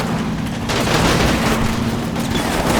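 Machine gun fire rattles in Combat Mission Final Blitzkrieg, a World War II tactical game: loud, continuous bursts of rapid shots mixed with booming impacts, close and dense throughout.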